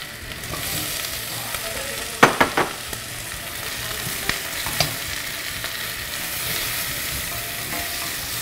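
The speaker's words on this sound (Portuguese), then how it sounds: "Bom, com o nosso refogado pronto, nós vamos adicionar o inhame." Taro being added to a savory sauté and cooked in a pan, a continuous close sizzle with a few sharp clattering drops and stirring scrapes.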